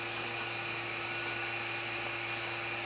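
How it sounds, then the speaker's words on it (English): A vacuum pump running steadily during a prosthetic lamination, a constant high whining drone with fixed tones and no breaks, loud and close throughout. "Or my vacuum's on now."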